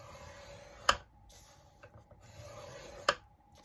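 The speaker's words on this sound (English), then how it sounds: "So you're going to score it at 4." Paper being scored on a scoring board for a journal flip folio base, heard as two sharp, brief scraping strokes about two seconds apart over a quiet background.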